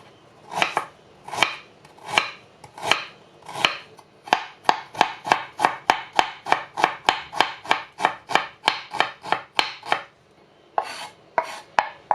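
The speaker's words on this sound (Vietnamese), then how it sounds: "Gừng thì mình cắt sợi." A knife cuts ginger into thin strips on a cutting board, a steady run of crisp chopping taps, slow at first and then quicker and regular, close and clear with no talk.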